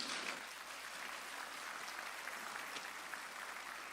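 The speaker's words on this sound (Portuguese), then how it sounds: "pode aplaudir o Senhor" A church congregation at a Sunday service in Curitiba applauds, a steady, fairly faint wash of clapping that holds evenly throughout with no voices over it.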